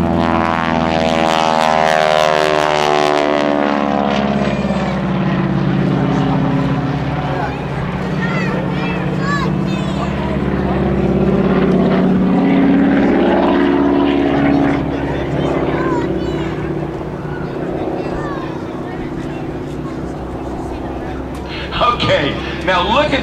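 A propeller aerobatic plane takes off and climbs at a 2011 air show at NAS Pensacola, its engine roaring loud and steady with rising and falling pitch, while an announcer talks over the public address.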